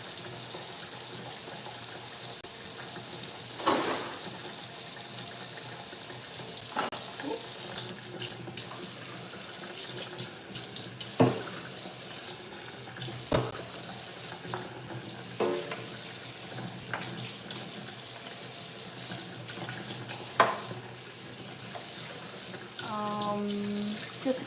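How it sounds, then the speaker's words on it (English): Tap water runs steadily into a kitchen sink while marinara sauce jars are rinsed out, with occasional clinks and knocks of glass against the basin over the constant splashing flow. "I'm rinsing out some jars of marinara sauce that I used in my recipe."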